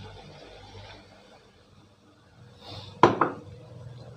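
Sauce goes into a pan of sweet and sour pork stir-fried with pineapple, bringing a sudden loud splash and clatter after a quiet low simmer, then a second smaller hit of pan noise.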